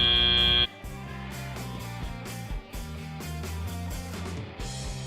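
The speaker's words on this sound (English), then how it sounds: "and there's the buzzer." A loud, sustained electronic buzzer marks the end of a match at an FTC high school robotics competition. It sounds once for under a second, then gives way to background arena music.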